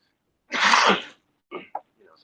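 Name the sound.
raggedy cough and throat clearing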